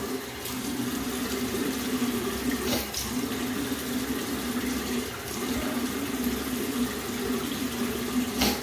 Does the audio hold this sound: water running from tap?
yes